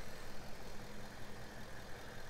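A 2019 Ford Mustang Bullitt's V8 engine idling, a faint, steady low rumble that stays even throughout.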